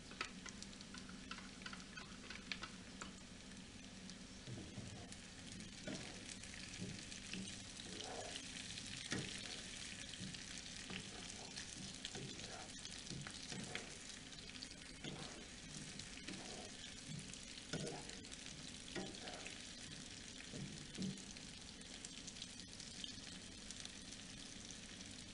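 Food frying in a heavy, thick pan for a Danish sausage dish, with steady low sizzling and repeated soft scraping and tapping of stirring throughout, close and fairly quiet, no talk.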